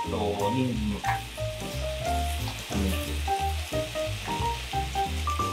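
Oysters and udon sizzle steadily in a hot pan with carrots about to be added, a continuous close frying crackle running throughout under faint background music, with no voices.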